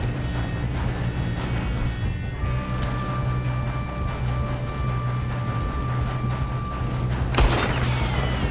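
Gunfire during a train robbery in Red Dead Redemption 2, with one sharp, loud shot standing out near the end over a steady rumble of a moving train and background music.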